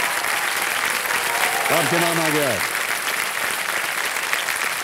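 Studio audience applause on the KBC quiz show, a steady sustained wash of clapping throughout, with someone speaking briefly over it.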